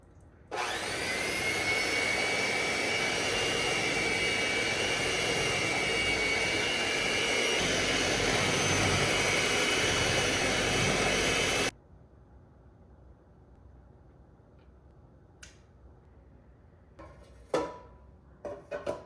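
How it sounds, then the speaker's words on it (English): An electric hand mixer beats cake batter for a vintage peanut butter sheet cake, a loud steady motorized whir that runs unbroken for about eleven seconds and then cuts off, leaving a few faint clinks and knocks. "I'm going to use a hand mixer and we're going to mix this all together"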